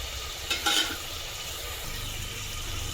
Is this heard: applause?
no